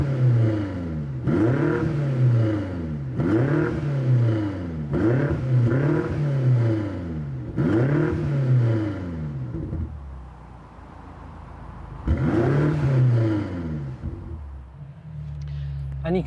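A BMW M8 Competition revved repeatedly at standstill in Sport mode: a series of sharp, loud blips rising and falling in quick rhythm, a pause at idle, then more revs, with faint pops.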